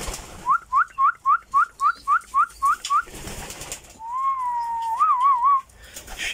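A person whistles to call pigeons, first with a quick run of about ten short rising chirps, then with a longer warbling whistle that holds steady and wavers. The whistling is close and clear and comes alone.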